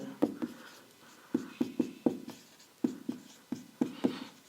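A maths problem written by hand: a quick series of crisp pen or chalk taps and short scratchy strokes in uneven bursts, close and quiet, with no speech.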